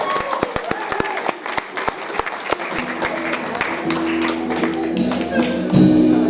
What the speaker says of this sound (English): Can we give all of those people a round of applause?